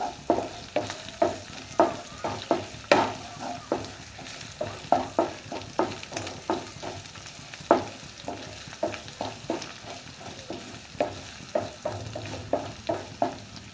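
Bay leaf, cardamom and cinnamon fry in hot oil in a pan while being stirred, a steady sizzle broken by regular scraping strokes of a spoon, close and fairly loud with no talking.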